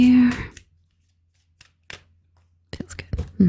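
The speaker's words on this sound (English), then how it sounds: "just a few more shuffles here." Close-up tarot card shuffling in short bursts of riffling and tapping, separated by quiet pauses, with a voice speaking softly at the start.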